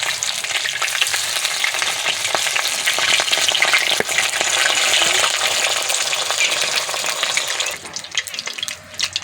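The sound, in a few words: cabbage fritters in batter frying in a wok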